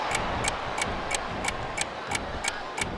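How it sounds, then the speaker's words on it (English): A clock ticks in WWE SmackDown vs Raw 2008 during a Royal Rumble match, nine steady, even ticks about a third of a second apart over a low arena murmur. "you hear the clock ticking"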